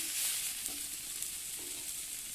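Vegetables fry in a pan for vegetable dal, giving a faint, even hiss of sizzling with a few light stirring sounds.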